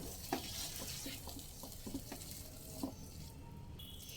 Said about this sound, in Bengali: এবার এক থেকে দেড় মিনিট অনবরত নেড়ে চেড়ে মিশিয়ে নেব